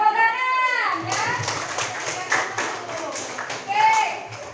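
Children clap their hands in a classroom, a quick run of claps following a voice, with her speaking again afterward.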